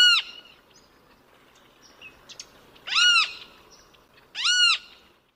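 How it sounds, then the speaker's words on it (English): A great kiskadee gives loud, clear calls, with one short burst early and then two strong ringing phrases about a second and a half apart, close against a quiet background. "Great Kiskadee."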